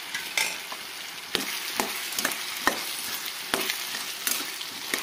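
Potato and broad bean pieces fry in a pan for a gravy curry, a steady sizzle broken by sharp scraping clicks of a stirring spoon roughly every second, close and fairly quiet with no voices.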